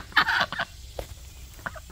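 Chickens clucking while being fed bread, a few short squawky clucks and calls close by in quick bursts, with a brief pause in the middle.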